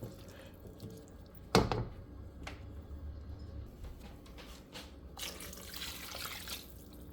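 Water pours quietly into a large pot of stewing chicken, a faint, steady trickle and splash with a brief louder clunk early on and some soft rushing toward the end, with no talk.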